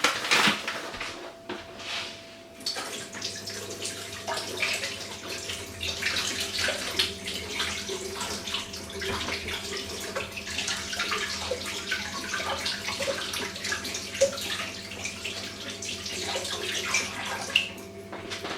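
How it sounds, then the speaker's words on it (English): A kitchen tap runs steadily while hands are rinsed under it, a continuous close splashing hiss of water with small shifts in the spatter as the hands move, lasting throughout with no talking. "Just went to wash my hands off"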